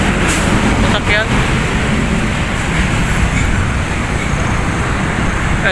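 Fast vehicles stream along Roxas Boulevard beside the Manila Bay baywalk, making a steady, loud roadside rush of passing cars and buses that never lets up.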